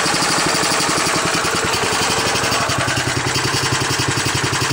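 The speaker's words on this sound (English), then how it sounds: "this will charge this battery, and this engine will still stay at a low idle." A homemade generator engine putters at a low idle while charging a battery, with a steady, fast, even chug that stays close and loud throughout.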